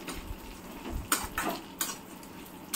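Pumpkin, watermelon and muskmelon seeds roasting lightly in ghee, with a faint sizzle under intermittent clinks and scrapes of a spatula against the pan.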